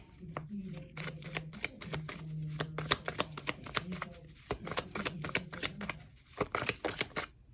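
A deck of tarot cards is riffled and shuffled in close, rapid flutters and snaps, with someone speaking softly over the shuffling.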